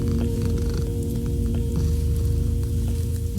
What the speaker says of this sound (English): The only stirring is a kitten purring next to me.